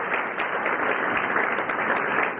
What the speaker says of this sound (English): Give a round of applause to our friends that are at home watching that couldn't be with us this night.